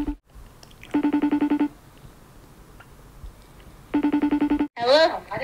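A phone rings back during an outgoing call, two bursts of rapid pulsing trill separated by a quiet pause, before a voice begins talking.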